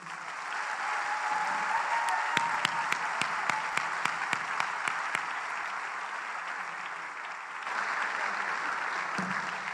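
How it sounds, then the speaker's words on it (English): Sustained applause from a convention audience at a women's church gathering, a steady wash of many hands clapping with scattered sharper individual claps, briefly dipping before swelling again. "You are not clapping like you should."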